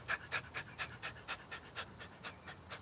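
Sharp, rhythmic breaths pushed out during a live fitness workout while throwing punches, about a dozen quick exhalations at a steady pace, close and fairly faint, with no talking.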